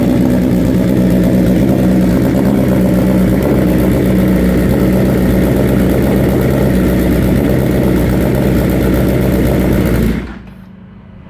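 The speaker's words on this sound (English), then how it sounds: "here's your cold start" A 2020 BMW S1000RR with an Akrapovic exhaust idles after a cold start, a loud, steady, burbling engine drone close by that holds for about ten seconds and then is switched off abruptly.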